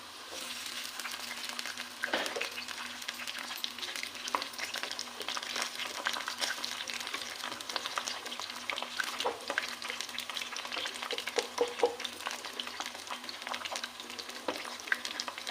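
Stuffed bitter gourds (karela) with beef keema filling fry steadily in hot oil in a kadhai, giving a continuous close sizzle with crackling pops throughout, no talking.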